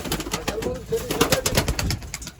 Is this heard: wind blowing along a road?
no